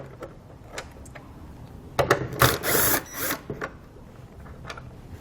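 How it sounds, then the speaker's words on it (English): A 7mm socket removes taillight screws from a vehicle, with scattered small clicks and ratcheting followed by a louder burst of metallic rattling and scraping in the middle, then quieter clicks. "We can then remove the screws beneath the caps with a 7mm socket."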